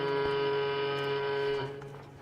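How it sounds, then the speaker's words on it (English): A bright, harmonically rich screaming goat horn call from the video game Skyblock sustains steadily for about a second and a half, then drops off and fades quickly. "and this is the last screaming goat horn as well."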